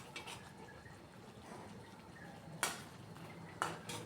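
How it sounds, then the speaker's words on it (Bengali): Raw banana being stirred into a yogurt gravy in a pan, heard as quiet soft wet stirring with two sharp clinks of a spoon against the pan near the end, no talking. "এইভাবে একটু হালকা গ্রেভির সাথে কাঁচা কলাটা মিশিয়ে নিচ্ছি।"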